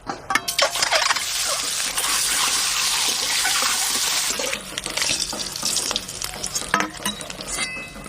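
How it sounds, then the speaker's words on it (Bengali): Boiled eggs fry in hot oil in a pan, a loud, bright spitting sizzle that surges for the first few seconds and then settles into gentler crackling and bubbling. "প্রথমে ডিমগুলো ভালো করে ভেজে নেব।"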